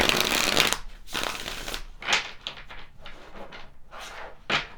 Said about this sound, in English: we're going to go ahead and pull some more tarot cards